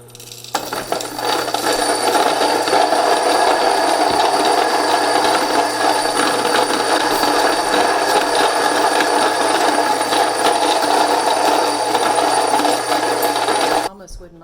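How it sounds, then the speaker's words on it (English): Mockmill Lino 100 countertop grain mill grinding dried corn into coarse cornmeal, a steady loud whirring grind that runs continuously for most of the span before cutting off abruptly near the end. "Turn my mill on. Add some corn."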